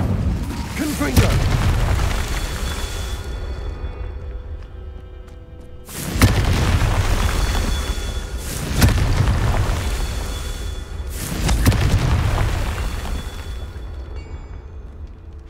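Fire and blast spells in Hogwarts Legacy, with several heavy booming explosions going off every few seconds, each followed by a rumbling decay. Spell incantations are spoken between them.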